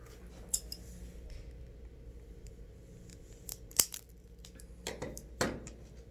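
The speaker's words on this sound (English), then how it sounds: "I'm just going to cut off just a tad bit more of this" Scissors snip through the wires of an Ethernet patch cable to trim them straight, with a few sharp, isolated cuts spread out over a quiet background and no talking.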